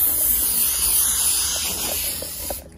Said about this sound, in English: Finish it off with hairspray, so it gives it that extra hold.